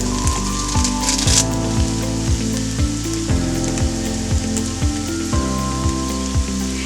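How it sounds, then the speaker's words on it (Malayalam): Ginger, garlic and curry leaves sauté in a hot pan with a loud, steady sizzle, broken by repeated stirring scrapes in a loose rhythm, close and continuous, with no talking. "ഈ ഇഞ്ചിയുടെയും വെളുത്തുള്ളിയുടെയൊക്കെ പച്ചമണം മാറി കിട്ടുന്നിടം വരെ നമുക്ക് ഇതൊന്ന് വഴറ്റി കൊടുക്കാം."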